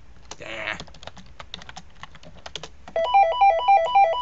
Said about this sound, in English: goddamn phone ringing, man.